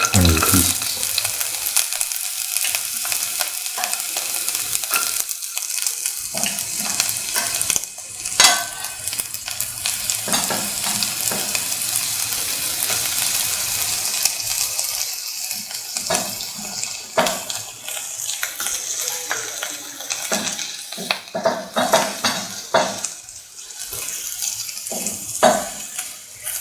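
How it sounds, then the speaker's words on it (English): Onion pieces fry in heated oil with a constant crackling sizzle, punctuated by sharp pops and occasional stirring scrapes over a long stretch. "Let the oil get heated. Put in the onion pieces."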